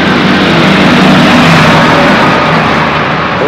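A large tractor rolls past on a street in Lucerne, Switzerland, its engine a steady, loud mid-to-low rumble with broadband road noise that holds throughout, with no voices over it.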